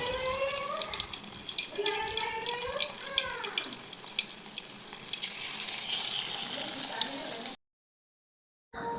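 Fish frying in hot oil in a wok-style pan, a continuous bright sizzle with a faint voice early on, cutting to silence near the end before briefly resuming.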